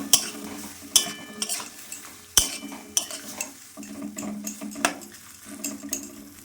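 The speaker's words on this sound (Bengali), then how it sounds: "নেড়ে দিলাম" Raw prawns in mustard curry stirred in a pan, with clinks and scrapes of a utensil against the pan, irregular and close, over a low sizzle and without speech.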